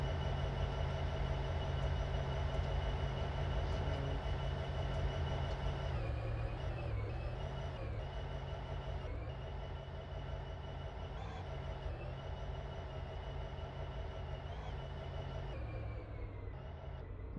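Continuous low mechanical rumble of a train engine idling and running in Train Simulator 2018 on the Colton & Northern route, steady and loud, with a slight shift in tone partway through; no voices.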